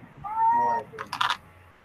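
A house cat meows once, a clear drawn-out rising call close by, followed by a few quick rustling knocks in a quiet room.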